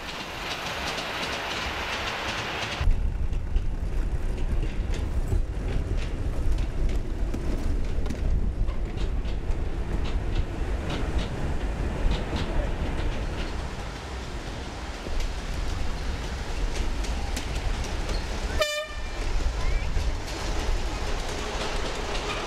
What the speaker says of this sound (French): Les trains partent de la gare située juste en face de la MJC